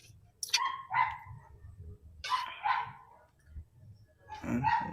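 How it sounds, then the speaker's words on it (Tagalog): A dog, apparently tied up, barks repeatedly in short bursts, three clusters of sharp barks separated by pauses, heard at moderate distance with no talk. "Kawawa naman yung aso, nakatali yata yun. Kaya kahul ng kahul."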